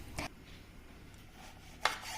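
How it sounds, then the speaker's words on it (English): Fresh figs chopped into quarters with a knife on a board in a home kitchen, two soft separate knife strikes over a faint background hum. "I chop the figs into quarters"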